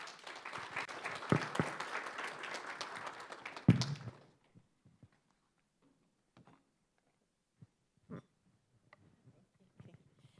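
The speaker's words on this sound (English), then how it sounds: "Let's give her a round of applause again." Audience applause after a presentation at a survey report event, a steady burst of clapping for about four seconds that cuts off abruptly, followed by near silence with a few scattered faint knocks.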